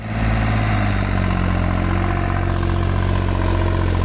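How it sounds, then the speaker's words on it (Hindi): A New Holland 5620 four-wheel-drive tractor with a 65-horsepower engine idles in a farm field, a steady loud diesel rumble with a low hum that runs unbroken from start to finish. "ये 4 व्हील ड्राइव न्यू हॉलैंड 5620 है हमारा किसान भाइयों, 65 हॉर्स पावर के साथ"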